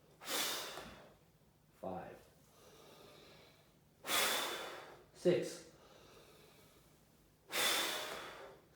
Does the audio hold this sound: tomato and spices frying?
no